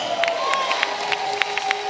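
A crowd at a Ghanaian citizenship ceremony for Afro-Caribbeans and African Americans cheers and claps in a steady roar, with sharper bursts of sound popping out over the continuous noise.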